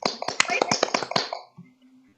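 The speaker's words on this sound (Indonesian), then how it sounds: "Tepuk tangan untuk Aisyah." A quick burst of classroom applause for a student, sharp dense claps for about a second and a half before fading into a low hum.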